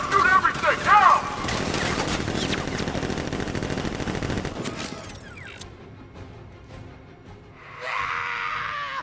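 Video game gunfire from Batman: Arkham Knight: dense, sustained bursts of automatic shots and fusillade, loud and close, with shouting mixed in, fading to quieter noise and a brief higher burst near the end.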